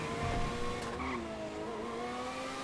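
Benefactor BR8 race car driven in GTA Online, engine tone sliding steadily with a brief tire squeal, a smooth mid-level drone with no voices.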